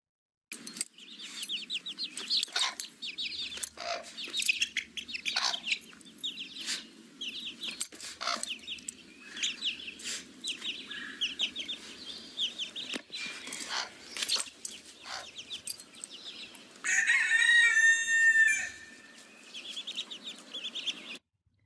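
Mother hen with her chicks on a farm, soft repeated clucks and high peeping chirps scattered throughout, with a louder burst of calls near the end.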